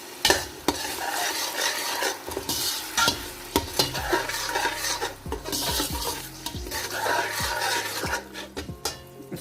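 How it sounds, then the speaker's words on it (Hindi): Mixed vegetables and green chillies being stirred and sautéed in a pan for veg pulao, with continuous sizzling, repeated metallic spoon scrapes and clinks against the pan, and brief pauses, close and fairly loud, with no talking. "इसको थोड़ा सा भून लेंगे,"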